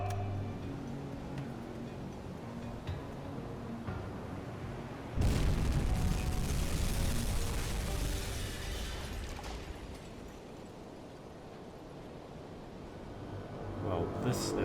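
A torpedo strikes a Liberty ship in a submarine war game, bursting into a loud, broad explosion midway that rumbles and slowly fades beneath steady background ambience.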